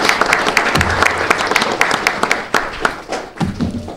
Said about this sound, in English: We get a round of applause for our teachers